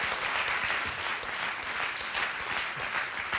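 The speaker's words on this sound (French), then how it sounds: "Vous pouvez les applaudir encore une fois" Steady audience applause from a studio crowd at a live Corsican television broadcast, dense and even throughout, fairly distant with no voices over it.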